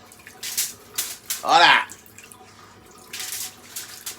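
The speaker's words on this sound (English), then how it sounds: "Some water on your fingers like that. Alright? And flick it on the pizza like that." Water flicked from wet fingers onto a pizza gives a single short splashy burst amid spoken instructions, with talk before and after.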